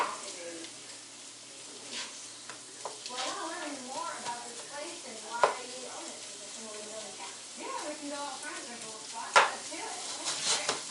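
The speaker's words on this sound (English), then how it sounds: "we're just going to gently cook those in the spice mixture" Shrimp cook gently in a spice mixture in a pan, with a soft, low sizzle. Stirring scrapes and a couple of sharper utensil knocks sound underneath, and someone talks over it.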